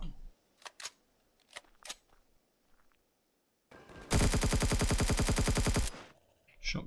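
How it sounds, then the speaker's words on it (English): A rapid, loud stream of weapon fire in Empyrion Galactic Survival lasts nearly two seconds, following a few sharp isolated clicks and taps in near silence, then stops abruptly. "Shotgun."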